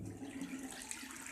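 Water rushes steadily from a tap, pushed by a water pump motor, with a faint motor hum underneath, quiet and continuous.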